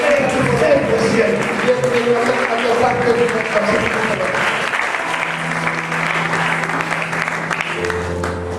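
A church congregation applauding in praise, steady dense clapping throughout with sustained musical tones and crowd noise underneath.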